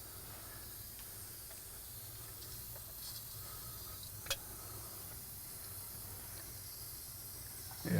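Compressed air hissing steadily as it leaks past broken piston rings into an engine crankcase, a continuous low broadband hiss with a low rumble beneath, one brief sharp tick midway.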